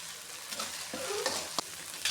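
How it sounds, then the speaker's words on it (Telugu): Chicken liver frying in oil with turmeric and a spice paste makes a soft, fairly quiet sizzle, with a few light scraping clicks from stirring. "మంచిగా నూనెలోనే ఫ్రై చేసుకోవాలి కొంచెం పసుపు వేసుకోవాలి"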